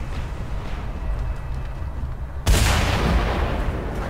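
A big explosion goes off in the Mad Max video game, a sudden loud broadband blast that sets in midway over a steady rumbling game background and keeps roaring to the end.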